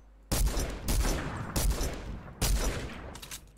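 Gunfire in the video game Fortnite: four loud, close shots with sharp attacks, spaced unevenly about half a second to a second apart, each trailing into a short echo.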